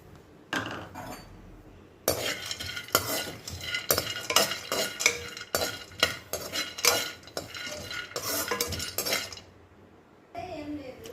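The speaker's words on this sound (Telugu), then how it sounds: "ఇదే బండిల్లో జీడిపప్పు బాగా వేయించుకోవాలి" Metal utensils scrape and clatter in a pan as cashews are stirred and fried, with a steady sizzle underneath and a short pause near the end.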